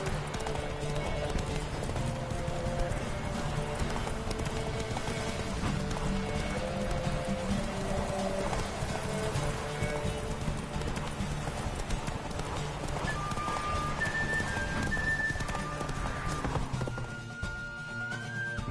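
Roach, Geralt's horse in The Witcher 3, gallops in a steady, rapid rhythm of hoofbeats that runs through the whole stretch, set against a continuous music and ambience bed, with a brief whinny and a few spoken lines during a race.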